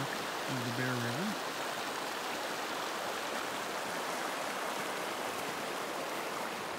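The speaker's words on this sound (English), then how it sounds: "this is the Hayden Fork of the Bear River, where it meets the Stillwater Fork of the Bear River." The Hayden Fork of the Bear River in the Uinta Mountains rushes in a steady, broad roar near its meeting with the Stillwater Fork, with a brief bird call early on.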